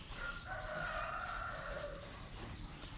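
A farm chicken crows with a long, drawn-out call that rises and then fades, heard at a moderate distance over steady outdoor background noise, with no talking.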